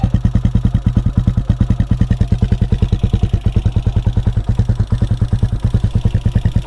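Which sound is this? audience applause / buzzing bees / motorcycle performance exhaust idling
motorcycle performance exhaust idling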